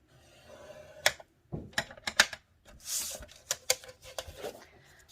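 Cardstock scored on a scoreboard for a Christmas card, with a series of close, sharp scraping clicks and rubs at irregular intervals.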